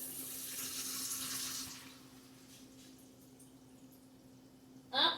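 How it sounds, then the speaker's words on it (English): Broth pours steadily into a pot of chicken thighs with baby potatoes, carrots and peas over a medium-high flame, a soft liquid rush that fades after a second or two, then a brief louder splash near the end. "Maybe sprinkle in half a cup more so that they're very submerged."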